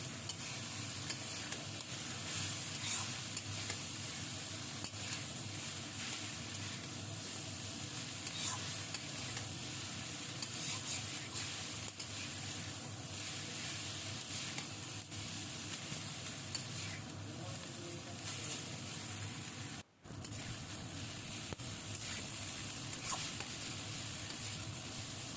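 Maggi noodles tossed with Maggi masala in a pan give a steady, close scraping and soft sizzling hiss that runs without pause for nearly the whole stretch, with one brief dropout near the end.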